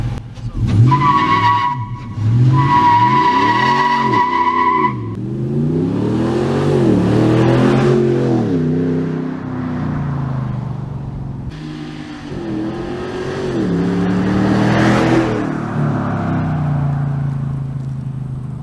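A 2017 Ram Sport Night Edition 4x2 pickup with a 395-horsepower 5.7-liter V8 drives around a roundabout, its engine loud and close, revs rising and falling in several sweeping surges with no talking.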